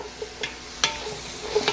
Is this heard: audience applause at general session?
no